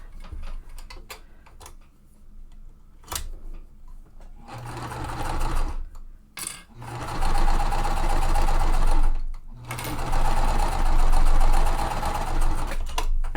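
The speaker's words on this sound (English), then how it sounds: "I'm going to sew that" A sewing machine runs in loud, close bursts as it stitches quilt block pieces, with mechanical ticking and handling noises between the runs.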